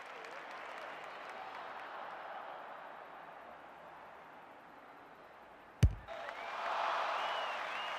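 Crowd applause and cheering roar up in the AFL 26 football video game, a broad hiss of noise swelling after a sharp thump, building louder toward the end.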